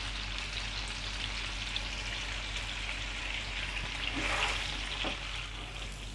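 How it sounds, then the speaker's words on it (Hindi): Potatoes and eggs fry in hot oil in a pan, a continuous close sizzle and crackle with a slight swell of spattering partway through and no talking. "तो आलू अंडों को मैंने फ्राई कर लिया"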